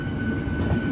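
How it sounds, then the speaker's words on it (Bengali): Train rolling into Bandel Junction station at night, a steady close rumble of the carriage with a faint high whine above it. "বন্ধুরা, ট্রেন এখন ঢুকছে ব্যান্ডেল জংশন।"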